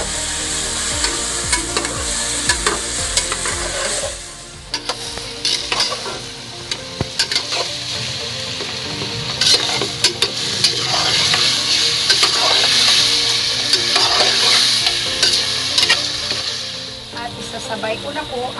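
Pork liempo and taro pieces sautéing together in a pot for sinigang, a steady loud sizzle with repeated scraping stirs throughout, swelling louder in the second half.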